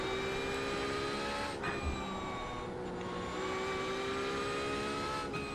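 A Porsche GT3 race car engine in iRacing holds a steady high whine at speed, with small shifts in pitch, heard close and continuous with no talk.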